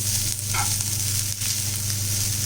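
Coriander and drumstick leaves being stirred and sautéed in a pan give a steady, close sizzle, with a brief scrape of the spatula partway through and no talking.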